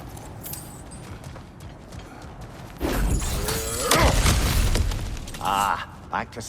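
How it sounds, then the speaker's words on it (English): In the God of War Ragnarok video game, something heavy smashes through cracked ground: a loud crashing impact with rumbling debris and clattering fragments, following quieter footsteps and ambient movement, with a short whoosh near the end. "Back to smashing through things for fun and profit."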